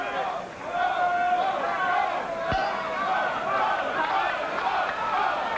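Boxing crowd of Clarence 'Bones' Adams supporters at his bout with Tommy Parks, a loud, steady roar of shouting and chatter heard from close behind, with one sharp thud partway through.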